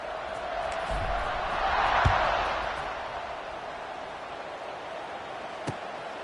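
A stadium crowd in the video game College Football 26 keeps up a steady distant roar that swells briefly and then settles, with a couple of faint sharp knocks.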